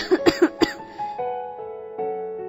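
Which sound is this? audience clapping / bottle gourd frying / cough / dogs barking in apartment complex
cough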